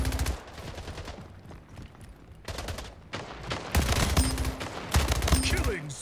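SMG gunfire in the Splitgate shooter video game, rapid bursts of automatic shots in several separate volleys, loud and close, with a few game tones in between.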